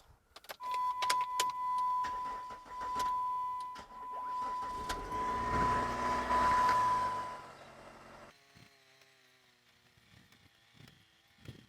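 A 2002 PT Cruiser with an overheating problem starting up close by: a cranking and engine catch with a steady tone, a rising run for several seconds, then the engine settling to a quieter idle with small clicks and rattles.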